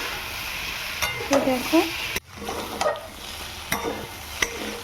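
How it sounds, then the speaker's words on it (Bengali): Potato and pointed gourd, seasoned with salt and turmeric, sizzle steadily in a pan while a spatula stirs and scrapes, giving a few sharp clicks and knocks close by. "এদিকে আমি আলু পটলটা ভালোভাবে লবণ হলুদ দিয়ে ভেজে নিচ্ছি।"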